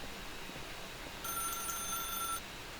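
A telephone rings in The Stanley Parable video game: a single, steady, bright electronic ring that cuts in partway through and lasts about a second over quiet room tone.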